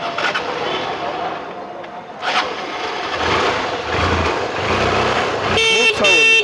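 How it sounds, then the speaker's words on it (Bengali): A second-hand motorcycle engine starts and settles into a low, rumbling idle, with a brief tonal beeping near the end. "স্ক্রিন টাচ করবে গাড়ি স্টার্ট হবে"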